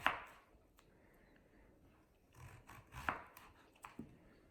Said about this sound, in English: we're just going to go through with even slices